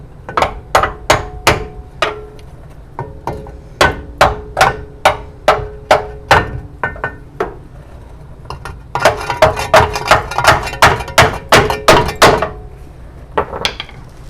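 Hammer tapping on the frame of a 1963 Pontiac during frame repair in a workshop, a steady run of sharp metallic strikes in quick bursts with short pauses, close and loud, with no talk.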